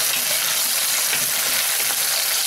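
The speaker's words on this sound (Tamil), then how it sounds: "இப்போ தக்காளி பழத்தையும் போட்டு நல்லா வதங்கட்டும்." Tomatoes sauté in a pan with onion and garlic for a green moong dal kulambu, giving a steady close sizzle and hiss of frying without any talk.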